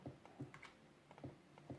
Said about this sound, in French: excusez-moi pour les touches de clavier, je sais que c'est très énervant pour certains